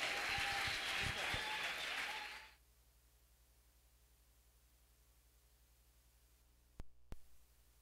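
A congregation at a revival service applauds their leader in a loud burst of clapping lasting about two seconds, then it cuts off abruptly into near silence, with a couple of faint knocks near the end.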